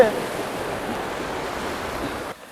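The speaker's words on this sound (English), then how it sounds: "We're about to run through these rapids." River rapids on the North Platte River rushing past a drift boat, a steady broad roar of water close by with some wind buffeting, ending abruptly after about two seconds.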